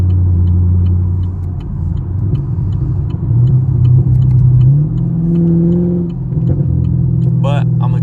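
A Camaro SS on a highway in the rain gives a steady, loud low engine drone, the pitch climbing as it accelerates, with road rumble throughout.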